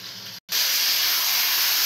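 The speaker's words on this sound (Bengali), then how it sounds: "পেস্টটা দিয়ে এখন ভালো করে কষিয়ে নেব" A ginger, green chilli, tomato and garam masala paste sautéing in a pan for a paneer, potato and pointed gourd curry gives a loud, steady sizzling hiss, broken by a brief gap near the start.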